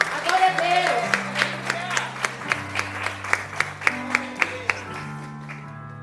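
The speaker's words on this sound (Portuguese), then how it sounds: "Você pode aplaudir o Senhor?" A church congregation claps in rhythm at a prophetic night service, with sustained organ or keyboard tones underneath; the beats come steadily and evenly, and a voice is heard near the start.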